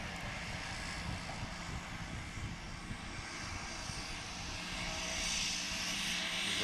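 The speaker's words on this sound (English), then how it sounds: "very much excited to see this aircraft flying live as he's getting it taxied back up to the STOL line" STOL propeller airplane taxiing at Ontario Municipal Airport during a STOL competition practice, its engine droning steadily at moderate distance and growing slightly louder toward the end, with no talking.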